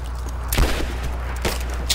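Two sharp gunshots ring out about a second apart over a low, steady rumble during a firefight in Rise of the Tomb Raider.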